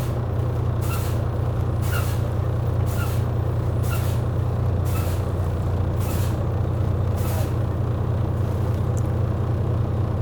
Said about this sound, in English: I'm going to start fanning my brakes.